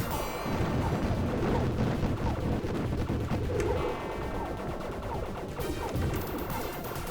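Continuous dense shooting and crashing explosions from the scrolling shoot-'em-up game Tyrian 2000 during a boss fight, loud and sustained with rapid repeated blasts throughout and no voice.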